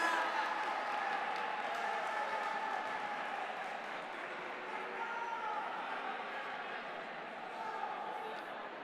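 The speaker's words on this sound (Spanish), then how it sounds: "Un fuerte aplauso para ellos." A crowd applauds robotics competition prize winners in a large hall, a steady wash of clapping and some cheering that holds evenly throughout at moderate distance.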